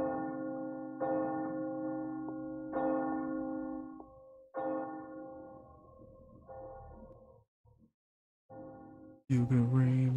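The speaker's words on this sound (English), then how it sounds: "Just gonna ring the bell." A deep bell in the video game Resident Evil 4 Remake: Separate Ways tolls several times, each strike ringing out and decaying, with a few gaps and an abrupt loud sound at the end.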